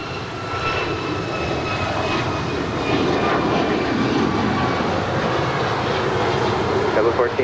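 At LAX, an airliner powers up on the runway for departure, a broad jet roar swelling and holding loud and steady, with tower radio chatter faintly under it.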